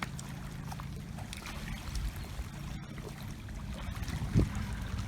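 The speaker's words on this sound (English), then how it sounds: "One of my favorite sounds is Mississippi sloshing up on the shore" Mississippi River water sloshing against the shore, a steady low wash that runs unbroken with soft lapping and trickling at close range and no voices.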